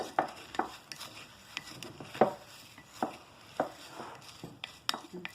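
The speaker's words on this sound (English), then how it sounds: "I'll mix everything together" Overnight oats with cinnamon are mixed by hand in a bowl, giving soft, irregular taps and scrapes of a spoon at close range, quiet and unhurried, with no talking.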